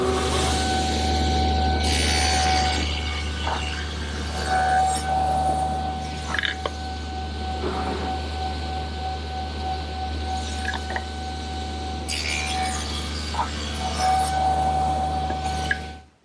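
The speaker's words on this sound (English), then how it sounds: "I'm going to use the table saw blade alone, which is 1/8 of an inch wide, make one pass" A table saw fitted with a single 1/8-inch blade runs steadily through the whole stretch, cutting a dado in wood in a home workshop. The loud motor whine holds throughout, with rougher bursts near the start and again toward the end.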